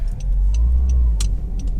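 Engine of a Honda CR-Z 1.5 IMA GT three-door hatchback on a road test, a steady low droning hum with road noise from inside the cabin, with faint ticks and clicks over it and no talking.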